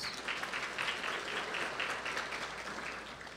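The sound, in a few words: audience round of applause at retirement banquet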